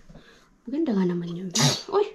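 A person sneezes once, a short sharp burst following a few spoken words close to the microphone.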